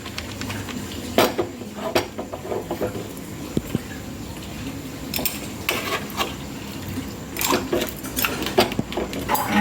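Ground spice paste being stirred into a crab curry in a pot, with scattered metallic clinks and scrapes of a spoon against the vessel over a steady background hiss.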